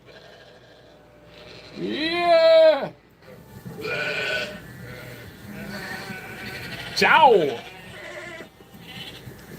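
A loud wavering bleat near the start, followed by talking and a second sharp, rising animal cry; sounds like a sheep or goat.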